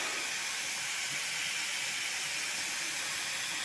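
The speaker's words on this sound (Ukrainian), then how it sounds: "Кипить, шкварчить наше місце, парує" Continuous bright hiss of pork neck sizzling and steaming on a grill with vegetables, even and unbroken, close and moderately quiet with no voices.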